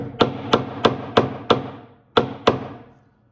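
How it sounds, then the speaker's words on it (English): A piano string pin being driven back in with a screwdriver, tapped so the string lies flat against the plate: seven sharp, close taps, five in an even rhythm, then a short pause before two more. "take your screwdriver, hammer this back in so the string lays flat against the plate"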